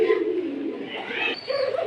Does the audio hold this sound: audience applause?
no